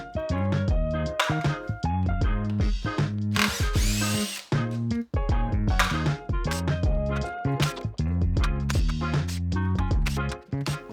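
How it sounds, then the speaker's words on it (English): A power drill fitted with a 4mm bit backs out the screws holding the control board of a King Song S22/S20 electric unicycle. It gives loud, close whirring bursts that start and stop again and again, with short pauses between screws. "You're gonna take your 4mm bit and you're gonna remove these screws along the top"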